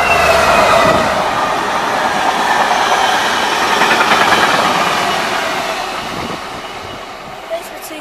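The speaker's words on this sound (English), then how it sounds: "And that's a Class 221 in Virgin livery" A British Rail Class 221 passenger train in Virgin livery arrives close by at Birmingham International station, a loud rumbling roar with wheel noise and high squeal that gradually fades, with faint voices underneath.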